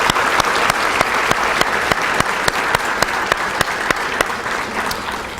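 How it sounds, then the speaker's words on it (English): Audience applause for new chamber of commerce members at a business breakfast, a steady dense wash of clapping from a large room with a few sharper claps standing out, no talking over it. "If we could have a round of applause for all of our new members"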